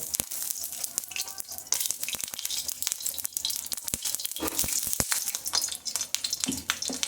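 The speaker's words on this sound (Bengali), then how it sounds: "তেলটা দিয়ে আমি আলুগুলো ভেজে নেব" Potatoes fry in oil in a karai for a chicken curry, a close, dense crackle of popping and spitting with constant sharp snaps and occasional scraping stirs.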